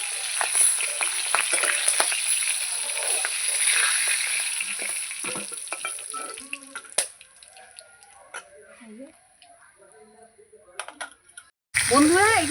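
Fish frying in a covered pan sizzles steadily for several seconds while someone talks over it, then the frying thins and turns quieter and more crackly, and a rooster crows in the background.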